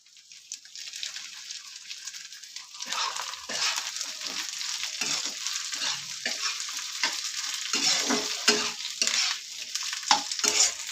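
Cut long potato strips frying and being stirred in a pan, with a steady broadband sizzle that grows from about three seconds in and scraping stir strokes recurring throughout, close and fairly loud.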